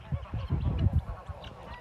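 Geese on a snowy farm honking in a close, noisy cluster, several overlapping calls repeating across the short stretch with no talking.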